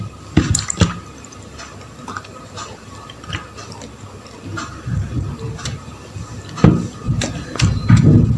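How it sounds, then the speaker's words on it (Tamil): Water sprinkled by hand over fenugreek seedlings in a home planting, heard as irregular drips, splashes and light pattering taps, near and fairly loud, with no talking. "இப்ப தண்ணி தெளிச்சுக்கலாம்."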